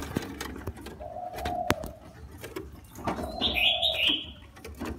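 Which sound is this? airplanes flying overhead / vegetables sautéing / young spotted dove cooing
young spotted dove cooing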